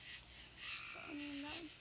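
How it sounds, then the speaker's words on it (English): Tree frogs croak and katydids buzz softly at night, a faint high steady insect drone with a brief rising croaking call near the end. "that's all those tree frogs. And then also the katydids."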